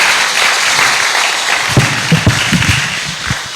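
At an emancipation gala in an arts centre, an audience applauds in a loud, broad wash of clapping, with several sharper, louder claps popping out toward the end.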